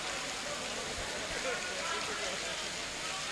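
Steady rain pours down on an outdoor Naatiya mushaira poetry gathering in Kopaganj, Mau, a dense, even hiss of drops holding constant throughout with no pauses.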